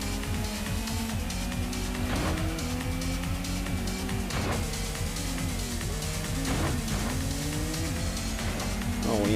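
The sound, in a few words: race cars on track in video game Gran Turismo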